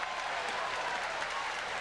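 Large home crowd at a Swedish curling arena applauds steadily during the wave, a dense, sustained wash of clapping with no break.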